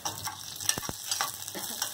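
Onions fry in a pan with dried red chillies and curry leaves for a peanut-stuffed brinjal curry, giving a soft steady sizzle broken by a couple of sharp scraping stirs of the spatula.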